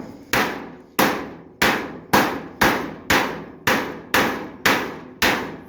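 Ten evenly spaced hammer blows ring out on a 1929 Chrysler steel door body panel, each sharp metallic strike decaying before the next, loud and close with no talking.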